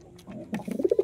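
A male pigeon coos close by, a few soft throaty notes building into a quick run of rolling coos toward the end, with no talk.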